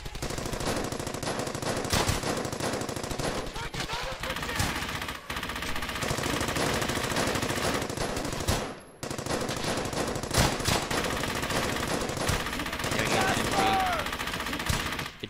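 Sustained machine gun crossfire in the World War II shooter game Brothers in Arms: Hell's Highway, with dense overlapping bursts that continue almost without a break and one brief lull partway through.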